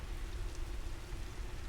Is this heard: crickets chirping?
no